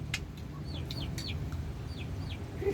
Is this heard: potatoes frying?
no